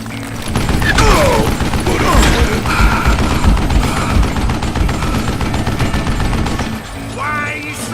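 Gunfire in the Call of Juarez Gunslinger video game comes as dense, rapid bursts of shots and mechanical clatter that run almost continuously, loud and close, with a voice heard briefly.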